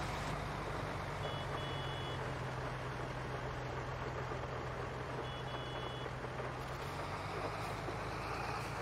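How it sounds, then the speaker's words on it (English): A farm vehicle's horn in Farming Simulator 22 gives two short pairs of thin, high beeps over a loud, constant engine drone. "maybe if I beep the horn you might move out of the way"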